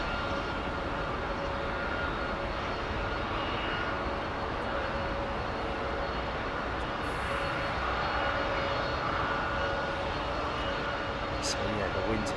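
A jet airliner takes off at London Heathrow Airport in a steady, loud, continuous engine roar that holds without break, with crosswind conditions noted.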